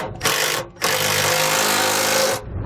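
A power tool tightens bolts on Kwikee 25 Series RV electric steps on a 2008 Fleetwood, with two loud, close bursts of whirring, a short one and then a longer sustained run, with no talk.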